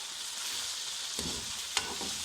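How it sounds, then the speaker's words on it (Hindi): Chicken frying in a pan for a chicken noodle pasta dish gives a steady, even sizzling hiss, with a couple of brief clicks from the pan partway through. "चिकन फ्राई हो चुका है।"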